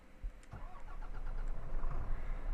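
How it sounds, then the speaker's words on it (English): A truck engine in Euro Truck Simulator 2 cranks and catches, then settles into a low rumbling idle that grows steadier and slightly louder. "So let's fire it up."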